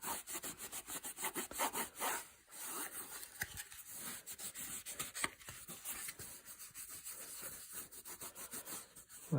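Cloth rubbing finish onto a wooden Browning B26 shotgun stock, making close, steady rhythmic swishing strokes with a dry, scratchy texture and brief pauses.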